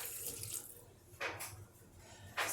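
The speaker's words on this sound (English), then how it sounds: "Here's I'm going to add some water" Tap water running briefly into a measuring spoon or bowl while making banana chocolate chip muffins, with short splashy bursts against a kitchen background.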